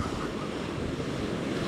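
Waves of ocean surf rolling in at Newport Beach, a continuous close roar of breaking water with wind rumbling on the microphone, no voices.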